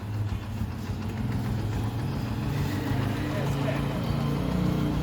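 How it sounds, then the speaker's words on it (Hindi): A motorcycle engine runs steadily as children set off for school, a continuous mid-low drone held at close range with no voices over it. "तैयब बाइक पर बैठ गया है"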